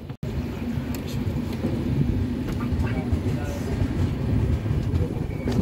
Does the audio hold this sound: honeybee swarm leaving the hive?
no